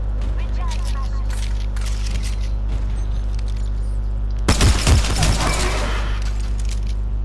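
A Mozambique shotgun fires in the Apex Legends video game. A short cluster of sharp, close blasts cuts through a steady low game hum, and a player talks during the action.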